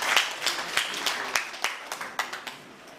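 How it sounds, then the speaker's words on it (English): A seated audience at a formal government event gives a round of applause, scattered claps sounding over a steady patter and gradually tapering off. "Please, a round of applause."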